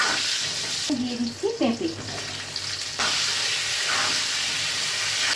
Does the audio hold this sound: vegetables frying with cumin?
yes